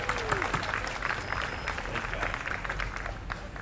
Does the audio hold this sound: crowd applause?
yes